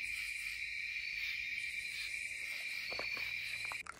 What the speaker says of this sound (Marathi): बाहेर रातकिड्यांचा आवाज येतोय